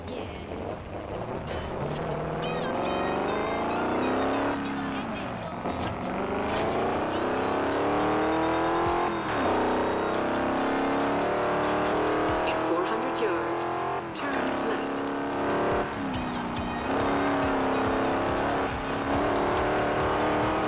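Car driving and cornering in Forza Horizon, with a revving engine climbing and dropping through gears, tires squealing on turns, and a person talking over the continuous drive.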